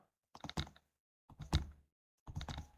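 Three short clusters of computer keyboard keystrokes as numbers are typed into an Excel cell, close, quiet and crisp with silence between the bursts.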